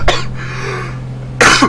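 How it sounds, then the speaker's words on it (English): A man coughs twice, close and loud, with a short harsh burst at the start and a stronger one near the end, over a steady electrical hum. "I've just got the world's worst case of the coughs"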